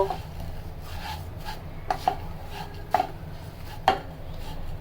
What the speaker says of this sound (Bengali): লাচ্চা সেমাই বাটারের মধ্যে কন্টিনিউয়াস নাড়তে হবে যেন সেমাই নিচে লেগে না আসে